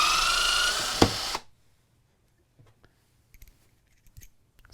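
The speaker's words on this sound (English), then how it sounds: "I've got a bolt here, 3/8. We're going to cut it." A DeWalt DCS350B cordless threaded rod cutter runs with a loud motor whine and snaps through a 3/8 inch bolt with a sharp crack, then stops, leaving faint clicks and handling noises.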